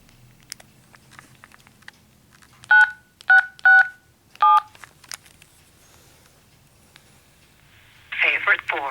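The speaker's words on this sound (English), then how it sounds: "we'll do a quick DTMF here" A cell phone sends DTMF keypad tones to a Nano Node hotspot as four short, crisp beeps in quick succession over a quiet background. A synthetic voice response follows at the end.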